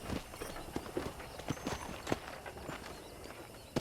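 A horse in Red Dead Redemption clip-clops along at a steady walking pace, its hoofbeats faint and evenly spaced over soft game ambience.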